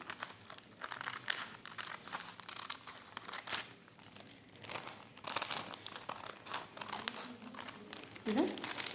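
Crinkling and rustling of plastic bags being handled and cut with scissors to make homemade decorations, close and fairly steady with sharper snips scattered through.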